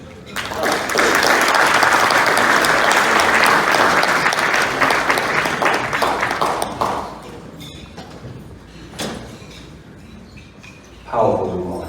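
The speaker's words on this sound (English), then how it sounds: "Let's give him another round of applause." Applause from the audience at an Alpha Kappa Psi fraternity black-tie ball swells into dense, loud clapping lasting several seconds. It thins to scattered claps and a few thuds, then a brief burst of renewed clapping comes near the end.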